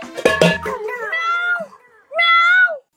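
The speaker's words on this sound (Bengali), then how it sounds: "এদিকে বিড়াল ডাকে মিউ" A cat meows several times, drawn-out tonal cries close by, with a brief clatter at the start.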